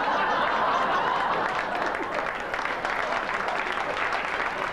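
An audience applauds a stand-up comedy act from the early 1990s, a dense, loud wash of clapping that holds steady and tapers slightly, with faint laughter mixed in.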